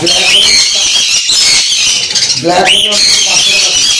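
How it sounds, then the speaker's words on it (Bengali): Cockatiels at a bird farm squawk and squeal in a dense, continuous chorus close by, with a louder harsh call near the middle, while people talk over the noise. "আর এদিকেও কিছু ককটেল রয়েছে, তাই তো দাদা?"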